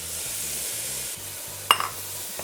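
Tomatoes tossed into a pan of browned onions and spices for a tofu scramble, a steady soft sizzle with a single sharp clink of a utensil on the pan partway through, close and without talk.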